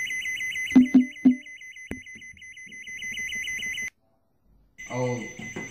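Phone notification from a baby car seat alarm system: a steady repeating electronic beeping tone, with a few short thumps, cutting off abruptly before a brief sound resumes.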